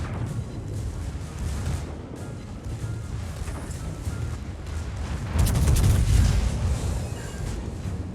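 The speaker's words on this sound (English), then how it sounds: "before the torps arrive, we're gonna fire." Warship main guns firing in World of Warships aboard the battleship Pommern, a heavy rumbling boom swelling midway through a dense low roar of naval battle, loud and close with no talk.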